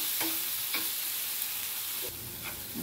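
Spiced masala for boiled-egg bhurji sautéing in a pan, a dense hiss of frying with a few scraping strokes of the spoon, steady and close, no talking.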